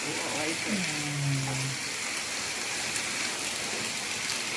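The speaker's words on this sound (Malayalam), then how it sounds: "നല്ല മഴയുണ്ട്" Heavy rain pours in a constant hiss, with a brief low whine near the start over the downpour.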